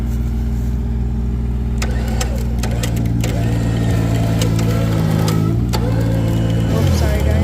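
Skid steer stuck in the ground with its engine running loud and steady throughout, a low droning rumble with slight pitch shifts, plus clanks and talk over it.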